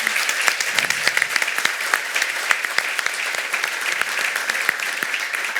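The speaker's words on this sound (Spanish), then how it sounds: "Un aplauso, por favor." Audience applause fills the space, dense and continuous clapping at a steady level, with only faint voices beneath.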